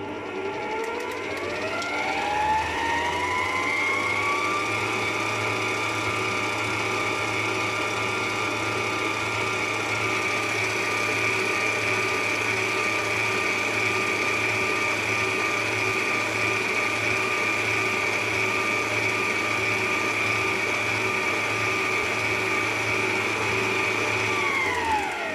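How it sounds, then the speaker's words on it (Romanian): An electric mixer beating eggs into walnut dough batter: a steady high whine that ramps up at the start, runs evenly and loud for about twenty seconds, then winds down at the end, no talking. "După fiecare ou trebuie mixat bine."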